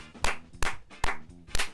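Four sharp, evenly spaced claps, loud and close, each a crisp smack with a short decay, about half a second apart.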